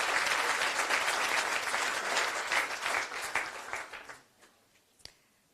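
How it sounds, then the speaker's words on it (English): Applause from an audience at a European Parliament publication launch, honoring a Walloon team, loud and dense at first, then thinning to a few scattered claps and a final single clap. "I think you can have a great clap for that"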